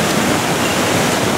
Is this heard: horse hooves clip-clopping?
no